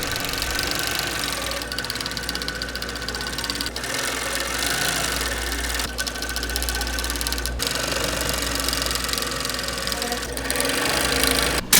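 A straight-stitch sewing machine stitches fabric tote bag handles, running with a continuous mechanical whir and rapid needle knocking and pausing briefly a few times, loud and close with no speech.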